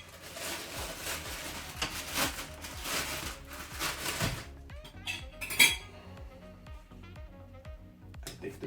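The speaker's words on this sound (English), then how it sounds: "pineapple. Just a thin slice." A knife and cutting board clatter while thin slices of pineapple are cut for a fruit and protein smoothie, with close, quiet chinks and taps of cutlery and dishes in a kitchen.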